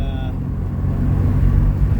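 A car pulls out on the road ahead, its engine a low, rumbling drone that swells gradually in loudness, heard from inside another vehicle with a brief high tone at the start.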